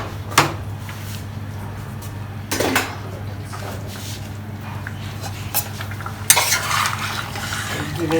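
Bengali mutton curry stirred in a pot, with a few sharp scrapes and clinks of a spoon against the metal over a steady low background hum.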